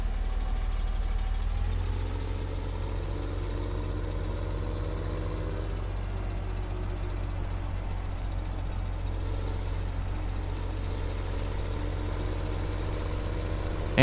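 A tractor engine runs in Farming Simulator 17 during corn chopping, holding a steady, close, low drone with a slight shift in tone after the first couple of seconds and no talking.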